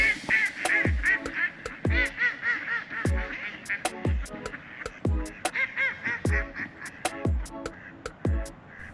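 Ducks quack loudly and repeatedly close by, a rapid chorus of harsh honking calls with sharp thumps between them, no speech.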